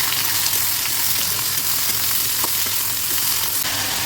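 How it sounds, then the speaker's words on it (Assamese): Ridge gourd and other vegetables with onions fry in a pan, a loud, close, continuous sizzle with faint stirring scrapes throughout. "এতিয়া ধুই থোৱা চব্জিখিনি দি দিছোঁ মই, এতিয়া ভালদৰে লৰাই দিব লাগিব"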